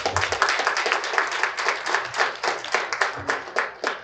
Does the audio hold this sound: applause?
yes